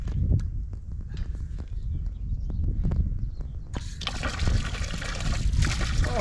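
Water runs and trickles from an outdoor tap during a wash on a walking trail in the countryside, a steady close splashing flow that grows louder and brighter partway through.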